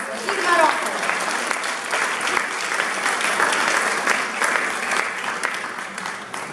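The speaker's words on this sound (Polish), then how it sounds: "Wielkie brawa, drodzy Państwo, firma roku." An award ceremony audience breaks into loud, steady applause for a company-of-the-year winner, the clapping dense and continuous for over six seconds before easing slightly.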